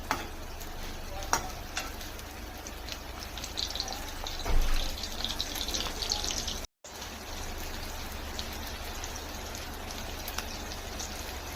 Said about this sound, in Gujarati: ડુંગળી થોડીક સતળાઈ જાય પછી આપણે આમાં મિક્સ કરીશું ટમેટાં.